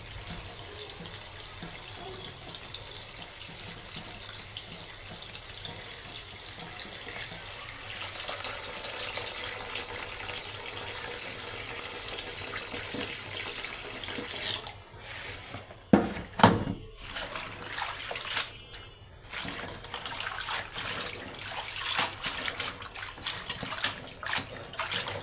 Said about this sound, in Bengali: তো আমি এখন পালং শাকগুলো ধুয়ে নিব ভালো করে, যাতে বালি না থাকে, ময়লা না থাকে।